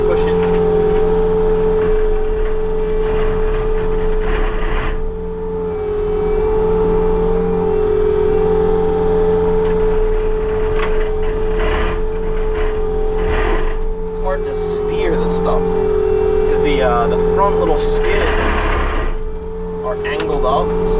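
A Bobcat T66 track loader with a brush cutter grinds through brush and logs, its engine droning loud and constant under a steady high whine, with bursts of harsher chopping.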